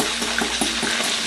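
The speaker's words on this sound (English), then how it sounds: "I'm going to get the eggs and stir it" Eggs are stirred into a simmering red snapper sarciado, a soft scraping and bubbling sound with a steady sizzle in a pan, close and continuous.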